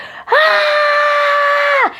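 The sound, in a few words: primal scream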